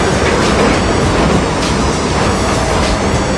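A New York subway train runs on its rails with a loud, steady rumble and roar, a constant rolling clatter heard from inside the car, with no voices.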